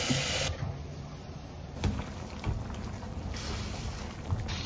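Tap water runs steadily into a bowl of washed mushrooms that will soak before going into a black-chicken soup, making a continuous close rushing splash with a few brief knocks.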